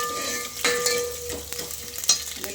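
Crushed garlic cloves crackling in hot tempering oil for a horse gram and banana stem curry, a steady close sizzle with a few sharp spatters and stirring clinks, no talk.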